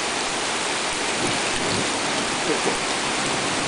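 Heavy rain pours steadily outdoors, a dense constant hiss of drops hitting surfaces with no break.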